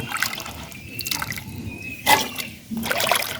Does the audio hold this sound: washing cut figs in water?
yes